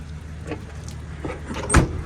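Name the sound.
car power windows being operated on a Jeep Cherokee XJ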